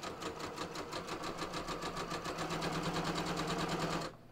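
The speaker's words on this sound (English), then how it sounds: "So I'm going to stitch right through my inseams pressed open." A sewing machine stitches a muslin pants inseam that has been pressed open, a rapid, even mechanical rattle running steadily for about four seconds before stopping abruptly.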